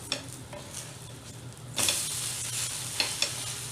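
Green gram dosa (pesarattu) sizzles on a hot pan as a spatula scrapes and flips it; the frying hiss swells sharply partway through, with a few clinks of metal on the pan near the end and no speech.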